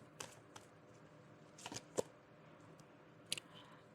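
Tarot cards shuffled and drawn during a reading, soft scattered riffling with a few sharper card snaps, close and quiet with no voice.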